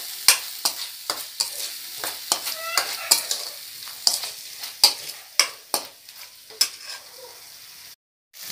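A spoon scrapes and stirs ginger garlic paste with salt in a frying pan, with a steady soft sizzle beneath a quick, irregular series of clicks and scrapes.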